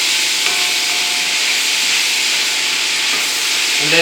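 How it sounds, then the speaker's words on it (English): Vegetables and pork stir frying in a hot wok for pork fried rice, a loud continuous sizzling hiss from start to finish. "now I'm going to put the vegetables in here"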